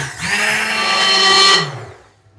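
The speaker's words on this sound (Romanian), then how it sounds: "o să bat ambele cu blenderul până le fac foarte fine" An immersion blender purees roasted peppers and vegetables in a pot for homemade ketchup, a loud, steady, whining motor drone with a bright harmonic tone that holds for about a second and a half, then cuts off and winds down.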